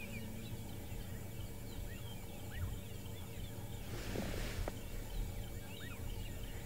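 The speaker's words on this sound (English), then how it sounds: "a red-crested korhaan," A red-crested korhaan calls in the bush, a faint burst rising briefly above scattered distant birdsong and a steady low hum.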